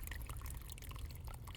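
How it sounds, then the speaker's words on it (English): Water gushing steadily from a leaking joint in a buried push-together pipe beside a large tree root, a continuous close splashing flow with no talk. "you can see the water is actually flowing quite heavily"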